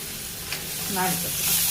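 Tomatoes with a pinch of turmeric frying on a low flame, a soft steady sizzle with a brief stir partway through, close by and fairly quiet.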